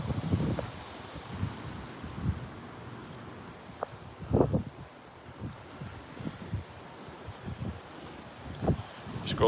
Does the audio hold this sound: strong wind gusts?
yes